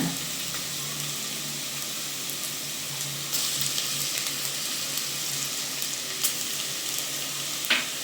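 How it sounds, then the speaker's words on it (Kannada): Onions and ginger garlic paste fry in a pan for Ambur chicken biryani, a steady bright sizzle that runs throughout with a few soft stirring scrapes and clicks, no talk over it. "ಈಗ ಶುಂಠಿ ಬೆಳ್ಳುಳ್ಳಿ ಪೇಸ್ಟ್ ಹಸಿ ವಾಸನೆ ಹೋಗೋವರೆಗೂ ಚೆನ್ನಾಗಿ ಈರುಳ್ಳಿ ಜೊತೆ ಫ್ರೈ ಮಾಡ್ಕೊಳ್ಳೋಣ."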